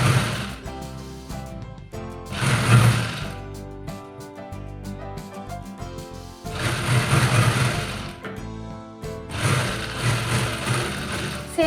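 Sewing machine running a seam on a ladies shirt in two long, steady whirring stretches with a short burst at the start and quieter gaps of handling between runs, no talking.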